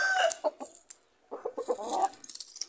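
Chickens cluck and squawk in short, uneven bursts close by, separated by a brief quiet gap.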